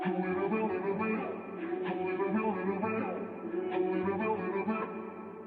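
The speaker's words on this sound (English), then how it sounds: "pitched it down like a whole octave and makes it give that like deep voice sound" A deep, muffled vocal pitched down an octave and low-passed murmurs continuously over a dense low backing, dull and lacking any brightness.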